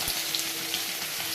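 Fish pieces rubbed with salt and turmeric sizzle in hot oil, a dense, steady, hissing crackle up close with no voices.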